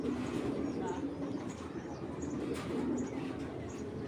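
A Hurricane breed giribaz pigeon coos softly among other pigeons, low rolling calls under a steady background murmur and occasional nearby voices.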